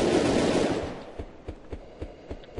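Gunfire in a shooting video game: a dense burst of rapid shots that fades, then a string of sharp single shots at a steady, evenly spaced rhythm, close and clear with no talk.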